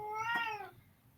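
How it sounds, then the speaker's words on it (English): Ginger, a pet cat, gives a single drawn-out meow at close range, fairly quiet, with no other sound around it. "that's my cat fussing with me"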